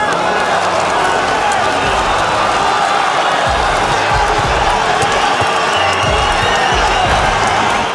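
A home crowd roaring at a boxing fight in Russia, a dense, loud, unbroken wall of cheering and noise that holds for the full stretch, with a voice talking over it.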